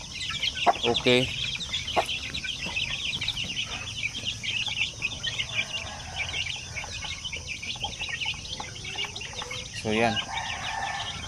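Chicks of Zampen, Basilan and Shamo Aseel chicken breeds cheep steadily throughout a farm pen, with an adult rooster crowing and clucking nearby and someone speaking briefly at the start and near the end.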